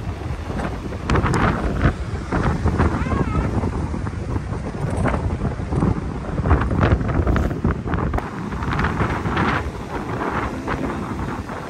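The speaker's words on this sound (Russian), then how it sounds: "хотя я как бы в шапке и с шарфом, но все равно такой сильный ветер" Strong wind buffets the microphone outdoors in spring, a loud continuous roar with gusts that swell and fade throughout, no other clear sound standing out.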